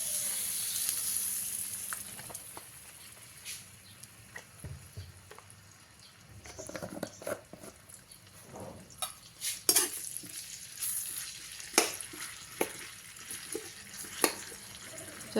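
Shallots and garlic frying in hot oil for a corn dish, a steady soft sizzle with intermittent stirring and spatula scrapes against the pan, clearer clatters toward the end.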